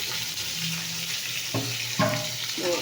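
Fish dropped into hot oil in a pan, bubbling and sizzling steadily at close range, with a few sharp crackles and spatters rising toward the end, no speech.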